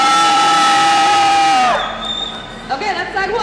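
A large crowd at a car show screams loudly and steadily, then the roar cuts off and scattered shouts and voices follow.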